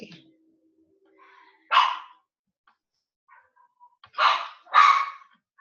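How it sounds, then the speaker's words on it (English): Dogs barking at home, with a few short, sharp barks in two bursts, one single bark followed by a quick pair a couple of seconds later, moderately near against a quiet background with faint whimpering between. "my dogs are barking"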